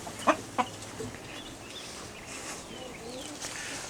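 A backyard chicken gives two or three short clucks near the start, followed by faint outdoor ambience with soft, distant sounds.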